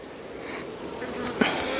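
A honeybee colony buzzes steadily as a hive is opened for a winter inspection. The hum is continuous and close, with a brief louder bee passing near the end and no voices.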